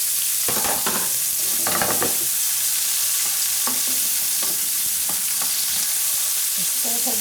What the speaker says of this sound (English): Just saute them in the small amount of oil.